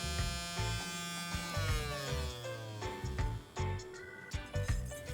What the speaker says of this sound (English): And fire up the handheld smoker and fill the bowl of chips